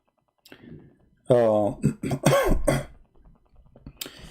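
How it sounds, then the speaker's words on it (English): A man coughs and clears his throat indoors, several short harsh bursts close to the microphone, separated by brief quiet gaps. "Excuse me, I'm coughing."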